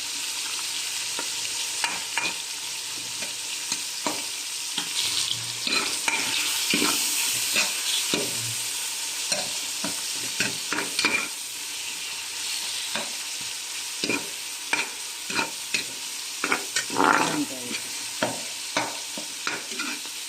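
Tomatoes and onions sauté for beef sinigang, a steady close sizzle broken by frequent scraping stirs of a spoon in the pan, with no talking.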